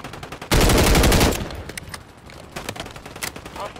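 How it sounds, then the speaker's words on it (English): Rapid automatic gunfire in a first-person shooter game bursts loudly in one dense volley, then gives way to scattered distant shots and game sounds. "Oh, he's getting shot at from the other side."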